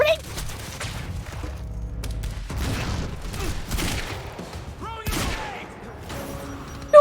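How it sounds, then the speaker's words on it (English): Grenade blasts and bursts of gunfire in the video game Quantum Break, with loud thumps and rattling shots scattered through the scene while a voice talks over the action. "Stop throwing grenades!"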